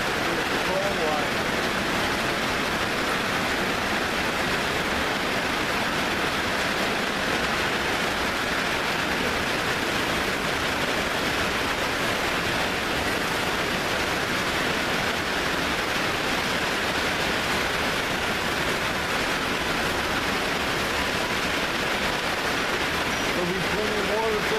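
Steady rain falling at night at a campsite, a continuous broadband hiss of drops on surfaces that stays even throughout with no breaks.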